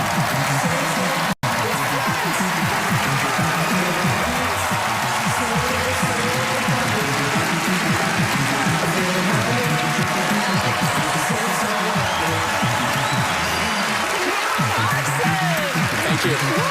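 A theatre audience applauds steadily through the whole stretch after a magic trick finishes, with a dense, even wash of clapping and some voices talking over it.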